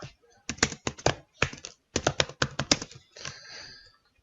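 Fingers type a program on a computer keyboard in short, close bursts of rapid key clicks separated by brief pauses, ending with softer tapping.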